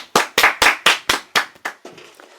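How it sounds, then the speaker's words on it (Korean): A church congregation breaks into unison clapping of about nine sharp, evenly spaced claps that fade and soften toward the end. "하나님께 영광의 박수 올리겠습니다."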